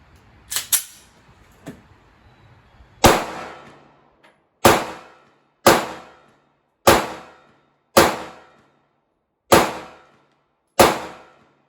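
Nine sharp 9mm gunshots from a Kel-Tec Sub 2000 carbine at an outdoor range: a quick double shot, a lone report, then a steady, evenly spaced string of loud cracks, each with a short decaying ring.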